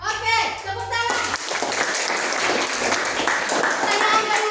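Classroom of students clapping in unison, a dense and loud burst of applause that begins after a teacher speaks briefly and then carries on steadily to the end.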